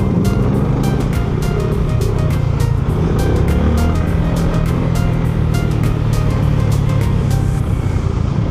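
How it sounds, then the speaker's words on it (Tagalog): Road traffic in a jam heard from inside a car, a steady loud rumble of engines and road noise with faint intermittent clicks, dense and unbroken throughout. "Traffic, grabe, no? Matraffic."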